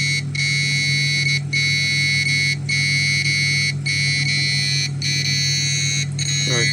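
Electromagnetic radiation detector alarm sounding near a running microwave oven, a loud electronic siren tone pulsing in regular bursts about once a second over a low steady hum.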